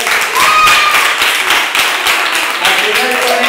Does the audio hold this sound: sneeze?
no